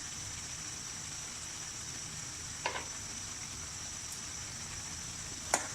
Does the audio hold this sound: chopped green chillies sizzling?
yes